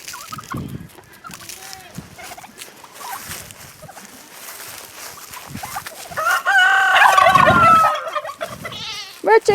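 Chickens calling on a backyard homestead: scattered clucks and fowl calls early on, then a louder stretch of crowing and squawking near the end, fairly close.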